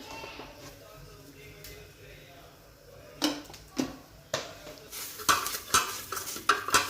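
Salt being crushed and mixed on a hot griddle, a dull scraping and rubbing that gives way to a run of sharp metallic clinks and knocks, close and fairly loud, with no talk.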